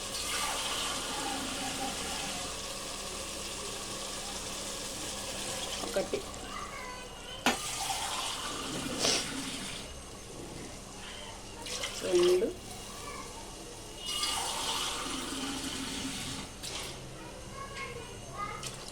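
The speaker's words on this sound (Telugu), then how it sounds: "ఇప్పుడు వాటర్ పోసి బియ్యం వేసేద్దాం" Water poured into a cooking pot for rice while making chicken pulao, in several separate pours, splashing at moderate loudness under a person talking and counting aloud.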